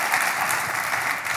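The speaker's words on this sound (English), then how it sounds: "So please give them both a round of applause if you could." A crowd claps steadily and densely, a full burst of applause filling the room without pause.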